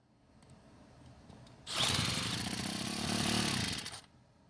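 A Cub Cadet four-cycle string trimmer engine, cranked with a drill, sputters to life and runs loudly and steadily for a couple of seconds, then cuts off abruptly, with no talking.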